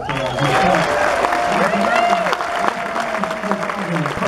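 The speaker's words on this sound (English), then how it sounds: "Cesar Chavez himself deserves a tremendous round of applause" Audience applause for Cesar Chavez fills the hall, a dense wash of clapping from a crowd that runs steadily throughout, with shouts and voices mixed in.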